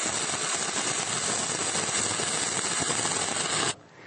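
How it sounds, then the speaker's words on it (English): Stick arc welding with a rod in the flat position, a steady loud crackling hiss that holds constant for nearly four seconds before cutting off abruptly, with no voices. "Try to maintain a short arc gap and constant travel speed."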